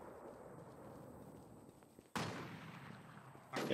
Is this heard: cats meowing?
no